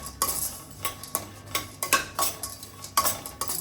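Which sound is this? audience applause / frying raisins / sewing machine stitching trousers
frying raisins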